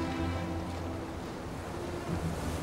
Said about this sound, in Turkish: Dalga sesi.